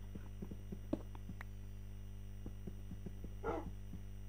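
Dog barking in the Minecraft video game, a few short synthetic barks over a steady low hum with rhythmic clicks, followed by a brief louder burst near the end.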